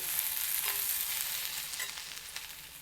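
Steady frying sizzle from a pan, a continuous hiss with faint crackles and occasional stirring sounds, no voices.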